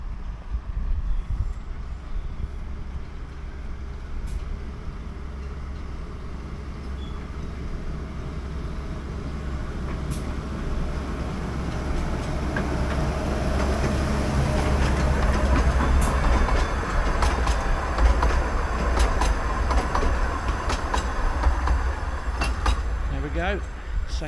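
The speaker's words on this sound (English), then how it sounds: "So we've got the train coming again." A train passes along a railway beside a lake in a park, a broad rumbling roar that swells gradually and holds steady, with faint clicking and wind noise over it, heard from the trackside.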